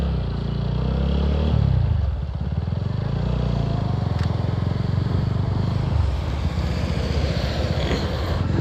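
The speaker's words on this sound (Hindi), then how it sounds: "तो भाई अभी बाइक में डाल दिया है पेट्रोल और अभी चलते हैं राइड के लिए" Motorcycle riding off on the road, its engine rumbling loudly and continuously with shifts in pitch as it pulls away, mixed with heavy wind buffeting the microphone throughout.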